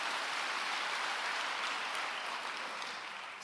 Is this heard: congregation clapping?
yes